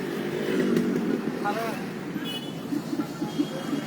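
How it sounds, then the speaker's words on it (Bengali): Motorcycle engine revved with the throttle, a steady low drone that swells and eases, with a faint higher whine in the middle, while a voice talks over it. "রেস দাও, রেস কমাও, রেস দাও"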